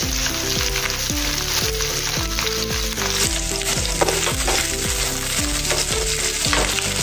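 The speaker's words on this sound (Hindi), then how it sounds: "अभी इसमें हम प्याज डालेंगे और साथ में हरी मिर्च भी इसमें डाल देंगे।" Sliced onion and green chili hit hot oil with a bay leaf in a pan and fry with a loud, continuous sizzle, set under steady background music.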